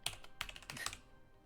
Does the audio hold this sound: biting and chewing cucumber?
no